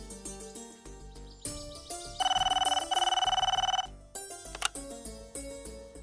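A telephone ringing in a Tamil TV serial scene, a repeated electronic trill bursting over light background music, loud and close.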